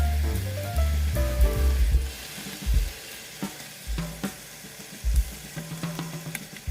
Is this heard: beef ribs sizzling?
yes